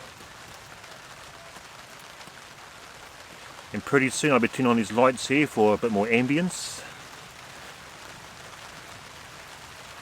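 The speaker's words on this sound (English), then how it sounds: "we're going to settle in for some nice rain" Heavy rain patters steadily on a tarp over a car campsite, a dense continuous hiss running throughout, while someone talks briefly in the middle.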